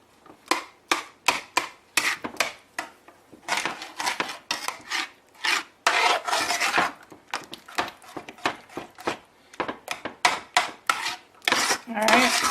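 A spoon stirs butter and vanilla in a pan while making coconut cream pie filling, with rapid rhythmic scraping strokes against the metal, close and steady throughout.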